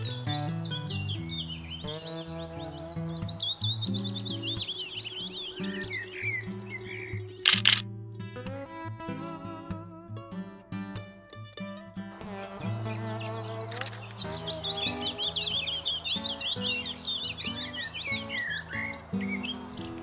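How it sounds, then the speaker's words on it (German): A willow warbler sings in open heathland, its high, bright phrases repeating over a low background. A rapid burst of camera shutter clicks cuts in midway. "Den ersten hier identifizieren wir als Fitis."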